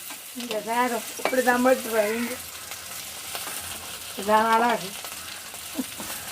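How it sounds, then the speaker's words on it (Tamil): Tomatoes sauté in a pan for a Jaffna-style goat curry, giving a steady soft sizzle beneath stretches of voice that come and go. "கொஞ்சம் நல்லா வதங்கட்டுமே நம்ம தக்காளி"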